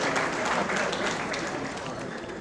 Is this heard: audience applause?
yes